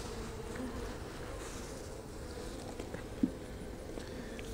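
Honey bees buzz steadily on a hive frame of brood tended by nurse bees, a low continuous hum heard close and fairly quiet throughout, with one brief knock partway through.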